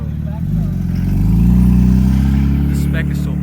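A Porsche 992 GT3 fitted with an FI exhaust revs close by, its engine note climbing to a loud sustained peak and then easing, with voices briefly audible.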